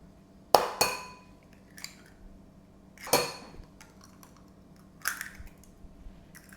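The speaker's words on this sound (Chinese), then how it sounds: "接下来我要打鸡蛋，把鸡蛋放到碗里" Eggs being cracked into a bowl while cooking egg fried rice, a few sharp clinking taps on the bowl's rim spaced apart, close and otherwise quiet.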